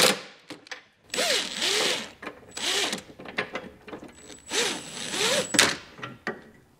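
Hardware being tightened with a ratchet on a socket extension, brisk repeated clicking strokes in short bursts, close and clear with brief pauses between runs.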